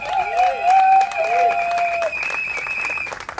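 Wedding guests burst into sustained applause and cheering for the couple, a dense wash of clapping from a crowd with steady tones ringing through it.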